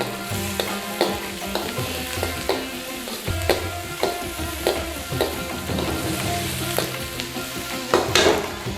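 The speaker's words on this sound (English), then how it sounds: "quick stir fry around. We get all that heat on the outside of that vegetables in there." Vegetables stir-fried in hot oil over a high flame give a loud steady sizzle, punctuated by repeated rhythmic scrapes and clanks as they are tossed around the pan.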